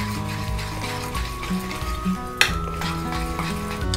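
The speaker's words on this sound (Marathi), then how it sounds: "व्यवस्थित सगळं मिक्स करून घेऊया।" A spoon stirs thick flour batter in a bowl to break up lumps for a bread-potato patty coating, giving soft continuous scraping and wet churning with one brief clink of metal on the bowl.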